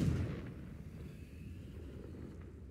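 Confringo blasting spell cast in the Hogwarts Legacy video game: a loud low burst at the start that fades into a sustained rumbling roar, with no voices.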